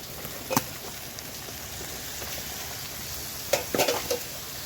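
Potatoes and chopped sabla flowers stirred in oil in a pan, giving a soft steady sizzle with a few brief scraping bursts from the spoon near the start and again toward the end.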